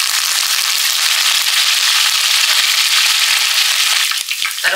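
Curry leaves and green chillies sizzle loudly in hot oil for a breakfast rava kichadi, giving a close, continuous crackling fry that eases slightly near the end, with a few stirring knocks.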